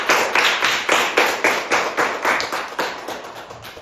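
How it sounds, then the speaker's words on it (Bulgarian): Applause welcoming a new member of the Royal Society, with a crowd clapping loudly and steadily in quick rhythmic bursts, close and continuous with no voices. "Тогава приветствайте с ръкопляскания на новия член на Кралското научно дружество."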